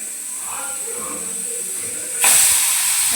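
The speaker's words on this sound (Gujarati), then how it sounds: "આપણી 1 સીટી થઈ ગઈ છે." A pressure cooker on a low gas flame, cooking a dish of steamed wadi, bursts into a loud, sharp whistle of escaping steam partway through, after a quieter stretch of soft hiss.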